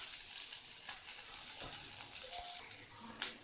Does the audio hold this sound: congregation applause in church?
no